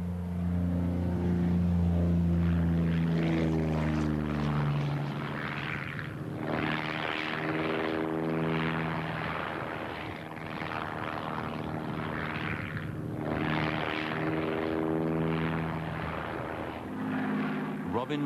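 A de Havilland Chipmunk piston-engined aircraft climbs in flight, its steady propeller drone holding loud and close throughout, with a narrator talking over it.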